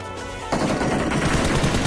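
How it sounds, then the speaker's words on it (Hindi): Rapid automatic fire from a suppressed UMP submachine gun in the mobile shooter BGMI Lite, a dense continuous burst that starts abruptly after a quieter half second and stays loud to the end. "उड़ा दिया भाई यूएमपी सप्रेसर के साथ, बहुत बाप गन है।"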